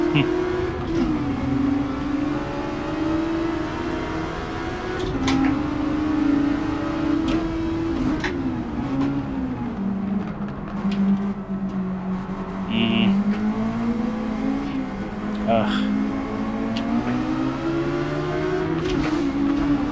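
Custom spec Mazda Roadster race cars lap Trial Mountain in a video game, the engine note rising and falling through gear changes in a steady, loud drone, with people talking over it.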